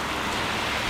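Torrential rain in Cairns, a steady dense broadband hiss of heavy downpour that is loud and continuous throughout the full second, with no voices present.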